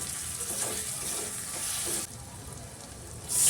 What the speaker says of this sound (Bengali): পরিমাণ মতো হলুদ গুঁড়ো, স্বাদ মতো লঙ্কা গুঁড়ো দিয়ে নেড়ে চেড়ে নেব।